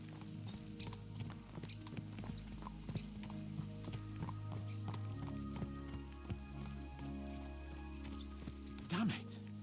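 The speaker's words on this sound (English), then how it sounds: "Let's really spur these horses on, eh?" Horse hooves clip-clop steadily in the medieval game Kingdom Come Deliverance II, several horses ridden at pace over a low rumble, with a brief whinny near the end.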